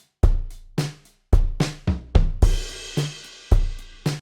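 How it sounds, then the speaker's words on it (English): A live-sounding Logic Pro Drummer NY Garage drum kit plays a loose groove: punchy kicks and snares with ringing decay, then crashing cymbals washing over the beat. "let's take the NY Garage kit"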